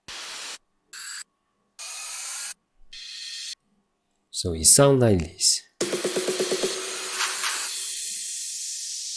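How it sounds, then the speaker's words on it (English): Electronic swipe-up noise bursts with flange sweep and a crash cymbal in an FL Studio progressive house build-up, choppy hissing bursts followed by a sweeping tonal swell, with a brief spoken phrase in between. "Next thing I'll add is some swipe up and flange,"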